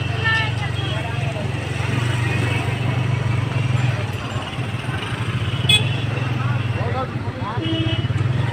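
A motorbike moving slowly through the entrance of a busy Guwahati market, its engine a steady close putter under traffic and a brief horn toot, while someone talks over it throughout.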